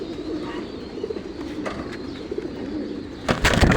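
A flock of large pigeons coos in a steady, overlapping murmur close by, with a few sharp rustling bursts near the end.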